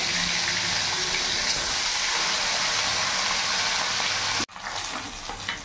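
Sorputi fish pieces fry in hot mustard oil with a loud, steady, close hiss that holds for several seconds, breaks off abruptly, then resumes slightly quieter.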